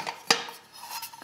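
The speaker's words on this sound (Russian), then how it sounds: "Это крышка или так называемая сковородка, она тоже крашеная." A single sharp metallic clank as the painted metal lid of an Austrian military mess kit knocks against the cookware, followed by faint rustling.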